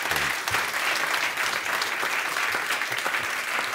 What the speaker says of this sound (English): So a big round of applause to Philip.